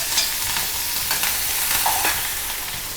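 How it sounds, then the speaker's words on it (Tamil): Mustard seeds, urad dal, green chili and curry leaves tempering in hot oil, giving a steady crackling sizzle with faint stirring scrapes, close by and with no talking. "அதுக்கு தாளிச்சிடலாம். கடுகு, கொஞ்சம் உளுத்தம் பருப்பு, காரத்துக்கு வந்து பச்சை மிளகா ஒரு கட் பண்ணி வச்சுருக்கேன்"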